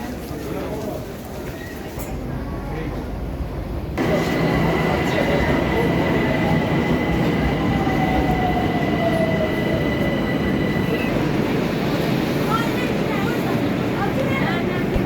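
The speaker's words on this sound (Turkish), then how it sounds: "Metroya bindik. Metrodan indik aktarmalı." Loud Tehran subway train running, with rumbling wheels, rising squeal and a jolt as it speeds up; voices murmur faintly beneath the roar.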